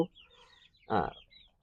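A single close, short clucking call from a hen in a flock of healthy farm chickens, rising briefly out of near silence.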